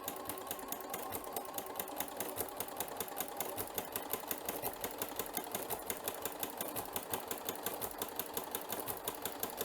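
A sewing machine fitted with a ruffler attachment gathers ribbon, running steadily with a fast, even mechanical stitching rhythm throughout, close and continuous with no talking.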